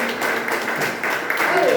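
A Portuguese-speaking church congregation applauds, a dense, steady wash of clapping mixed with loud voices and cheering throughout.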